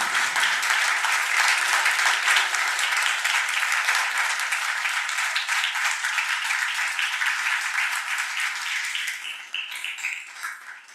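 A law school audience at a moot court final gives a dense, sustained round of applause for third-year board members, steady and full for about nine seconds before thinning out toward the end.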